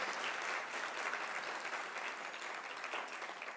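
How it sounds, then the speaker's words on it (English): Audience applause at the State Bar of Texas 2025 annual meeting breakfast, honoring the meeting committee: steady, dense clapping from a large room, even and sustained without a break. "if you could give our committee a round of applause for the 2025 annual meeting"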